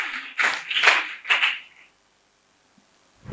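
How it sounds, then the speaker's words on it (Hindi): A church congregation claps in loud, dense bursts for about a second and a half, swelling and fading in waves before the hall falls quiet. "आइए एक बार फिर खुदावन के पाक रूह के लिए जोरदार तालियां बजा दीजिए।"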